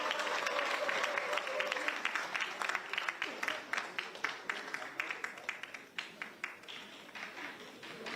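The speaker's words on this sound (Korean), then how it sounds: "큰 박수로 맞이해 주시기 바랍니다." Applause fills a political party gathering as an audience welcomes a speaker, steady clapping from a crowd that thins into scattered individual claps toward the end.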